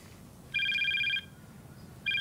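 A landline telephone rings in a home, a bright electronic trill sounding in one longer burst and then starting again, close and distinct over a quiet room with no talk.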